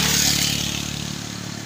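A Fuso container truck labors up the Kedabuan incline, its engine revving loud and close with a steady low drone that eases slightly toward the end.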